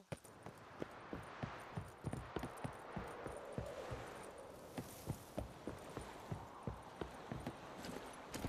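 Horse hooves trot in a Witcher 3 video game, an even, rhythmic clip-clop of repeated sharp hoof strikes over a soft background ambience.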